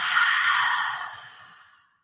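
A single long, breathy exhale during a yoga breathing exercise, close and soft, with a steady hiss that gradually fades to silence.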